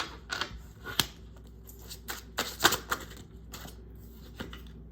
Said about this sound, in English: I'm going to just go ahead and shuffle these once.